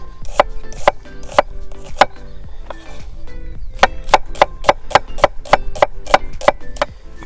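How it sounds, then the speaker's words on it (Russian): A knife slices onions into half-rings on a cutting board, giving a rhythmic series of sharp, close chopping knocks in quick bursts with a short pause between runs. "Берем репчатый лук и просто нарезаем на полукольца"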